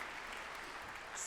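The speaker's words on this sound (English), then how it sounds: "I love the applause." A graduate commencement audience at Converse University applauds, a brief, faint, even wash of clapping heard from a distance with no clear individual claps.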